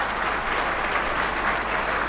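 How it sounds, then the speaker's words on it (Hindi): Sustained, dense applause from a seminar audience in Begusarai welcoming guests at a motivational youth event, steady and loud throughout with no voices over it. "हम जोरदार ताली से इनका स्वागत करते हैं"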